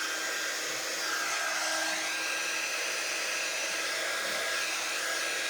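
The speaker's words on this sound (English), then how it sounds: "Now I'm going to go ahead and dry these up just a little bit. Oops. And this is my heat tool." A heat tool blows steadily over freshly applied chalk paste, a loud, continuous airy whoosh that holds close and even throughout with no talking.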